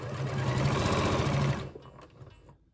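A sewing machine stitches a knit neckband in a steady fast run of needle strokes for about a second and a half, then stops and fades out, close and alone.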